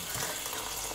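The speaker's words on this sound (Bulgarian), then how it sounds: "Накисваме за известно време в топла вода." Warm water used for soaking stinging nettles makes a broad, steady splashing hiss at close range, continuous and fairly loud, with no speech.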